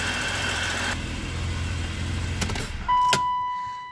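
A 1990s BMW 735iL idles with a slight miss and hunting, a low steady engine hum that drops away partway through, followed by a click and a sustained electronic chime tone.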